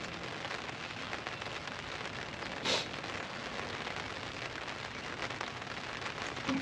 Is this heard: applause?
no